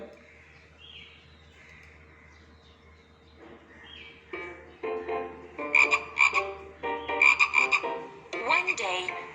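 A frog croaks in a grassy field, starting faint and low, then building into loud, close bursts of repeated rasping croaks in quick clusters over the last half.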